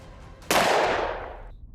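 A single loud gunshot from a firing squad cracks sharply and then decays over about a second, standing out against a quiet background.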